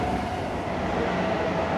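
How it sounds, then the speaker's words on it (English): Trains rolling past close by in a steady, loud continuous rumble, heard near a workshop while a Honda GX-type engine crankshaft is being worked on. "thousands of trains go past"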